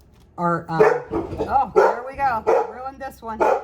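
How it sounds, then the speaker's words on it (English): Dogs barking indoors in a series of loud, close barks and yips, with a person talking briefly among them. "Excuse my dogs."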